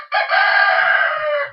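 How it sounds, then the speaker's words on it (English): A single rooster crows loud and close in a barn setting, one long sustained cock-a-doodle-doo lasting over a second, with a few faint low clucks underneath near the end. "So you've got that one crowing out there,"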